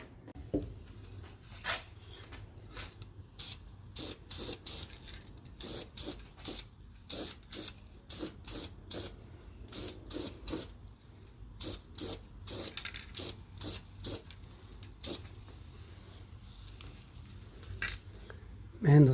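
Short bursts of spray paint from a rattle can hiss on and off in an irregular rhythm, close by, with quiet pauses between squirts.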